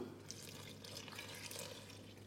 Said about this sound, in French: Je vais mettre l'eau, un petit peu d'eau.